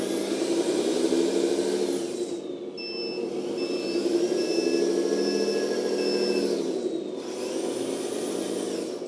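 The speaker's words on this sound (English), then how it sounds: "Let's see fully backward. Shifting back to low speed and check the rear side light." A toy 8x8 all-metal off-road tractor truck backs up at low speed with a steady, whining electric motor and gear drone. The drive briefly pauses and pitch shifts along the way, running continuous and close.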